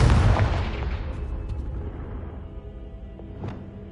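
A Confringo spell blast from a Harry Potter video game: a loud, deep boom at the start that rolls off into a long fading rumble, with a small sharp crackle near the end.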